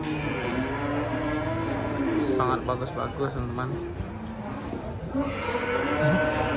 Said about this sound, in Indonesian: Suara di sini sangat berisik karena suara sapi yang sangat semangat sekali